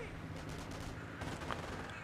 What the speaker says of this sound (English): machine gun crews just keep firing at his rifles